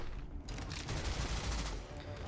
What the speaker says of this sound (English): you're blocking all the gunshots